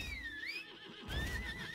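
Horse mount in the Lost Ark video game gives a loud, wavering whinny, with faint hoof clops underneath and no talking.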